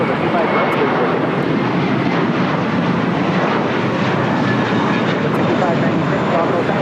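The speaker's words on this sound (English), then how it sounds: "So you have a JetBlue A321 heading to JFK, now taking off." A JetBlue Airbus A321 jet takes off at LAX, bound for JFK, making a steady, loud broadband roar that holds evenly throughout with no pauses.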